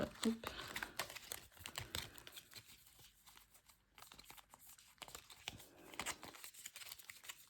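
Small paper slips shuffled by hand without looking: continuous close crinkling and rustling with irregular soft crackles, quiet and steady throughout.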